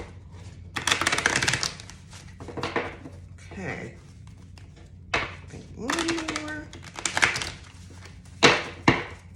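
Several bursts of tarot card shuffling, each a quick papery riffle or flutter, with soft speech and a few quiet taps in between.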